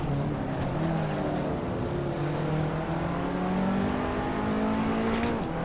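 KTM X-Bow R race car in Assetto Corsa on PS4, its engine droning steadily with rising and falling pitch as it is driven, loud and continuous with no talk.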